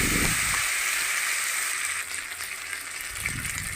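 Black cumin seeds with ginger and green chili paste sizzle and fry in hot oil, a steady close hiss with faint stirring, no voices.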